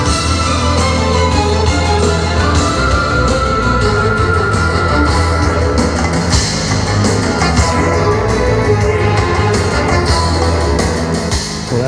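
Music played at full volume through an Ultimea Nova S40 sound bar with subwoofer over an optical connection in a small tiny home, a loud, dense, continuous mix with steady bass, with no voice over it.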